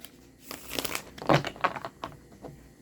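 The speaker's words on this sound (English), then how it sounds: "I'm just going to shuffle" Tarot cards being shuffled at close range, giving soft papery riffles and crinkling rustles in irregular bursts, fairly quiet and without speech.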